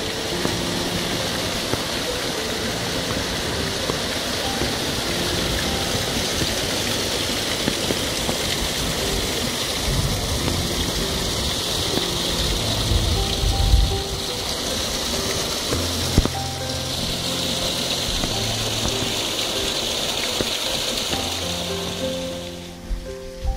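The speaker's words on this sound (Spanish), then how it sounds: "Después de un aguacero, ¿cómo baja el agua?" Rainwater from a heavy downpour running off through a garden in Panama, a continuous rushing, gurgling flow heard up close, with a few brief low thumps partway through and no speech.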